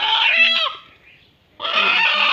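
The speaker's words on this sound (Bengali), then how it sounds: "কত বড় মোরগ" A rooster clucks loudly and close by in two bursts separated by a brief pause.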